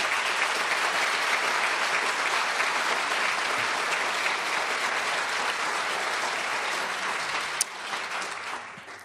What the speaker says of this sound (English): I'd like to give them a round of applause.